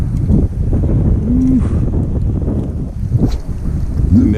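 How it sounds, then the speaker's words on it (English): Cold wind gusting over a boat on the water during trout fishing near Chesapeake, Virginia, a close buffeting roar against the microphone with a few faint tonal squeaks, no talking. "That wind hit a little different"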